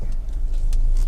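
A Honda HR-V 1.5 i-VTEC EX with CVT automatic idles steadily, a loud, close, even engine hum with a few faint ticks and clicks over it and no talk.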